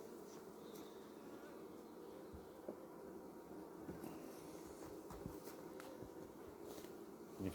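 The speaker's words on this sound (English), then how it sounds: "It's all that buzzing bees." Honey bees buzzing around an open hive on a farm, a soft, steady drone of many insects with faint scattered knocks and movements nearby, no talking.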